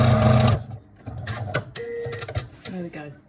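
A sewing machine stitches down the sides of a filtered fabric face covering in short, whirring runs and clicks, with brief pauses between bursts and faint handling noises.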